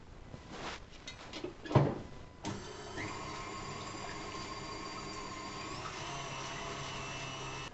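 An electric mixer whips egg whites for meringues, with a few rough starts and clatters before settling into a steady, loud, continuous whirring drone.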